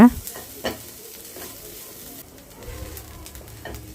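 Light sizzling and stirring sounds from a pan, soft and intermittent, with occasional scrapes and a faint bird cooing in the background.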